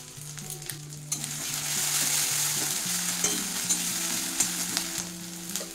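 Ginger paste dropped into hot oil and spices in a pan for a potato, pea and cauliflower fish curry, a bright continuous sizzle with a steady hiss and stirring clinks, close and alone with no talk.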